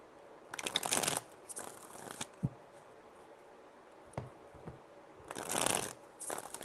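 Tarot cards shuffled by hand in several quick riffling bursts, close and crisp, with soft handling rustles and taps between them.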